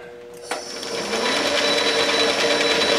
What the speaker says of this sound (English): the gears are meshing properly, so we're all set to cut some metric threads here